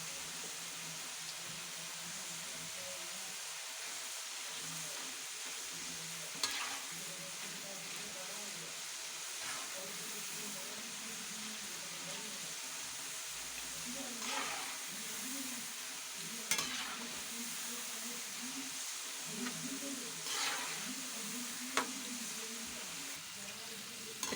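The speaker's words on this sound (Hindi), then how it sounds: "अच्छे तरीके से हम इसको फ्राई कर लेते हैं। फ्लेम को हमने लो फ्लेम किया हुआ है।" Potato finger chips frying in oil over a low flame, a steady soft bubbling sizzle with a few sharp crackles and pops scattered throughout, no voices.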